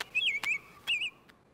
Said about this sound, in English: there are some birds singing.